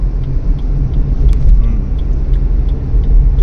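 A car being driven fast on a mountain road near Kinnaur, a loud continuous low road rumble and engine drone from inside the cabin with faint rattles.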